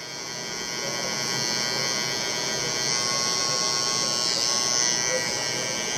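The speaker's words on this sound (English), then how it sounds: "Now I'm about to turn my clipper to the side." An electric hair clipper buzzes close and loud as it cuts hair for a low taper, a steady high whine that swells slightly as the blade turns and moves through the hair.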